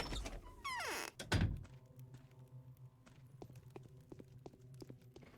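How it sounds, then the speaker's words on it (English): Loud thumping knocks on a door in Pathologic follow a quick rising whoosh. A pair of heavy close thuds gives way to fainter tapping and clopping footsteps. "Knock, knock."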